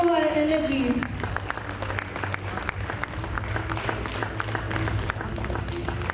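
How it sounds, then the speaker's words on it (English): A crowd at a kids' school annual day function claps for a nursery child receiving an award, steady moderate applause with a voice and background music at the start. "A round of applause for Praneet."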